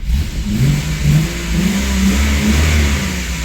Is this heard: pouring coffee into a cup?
no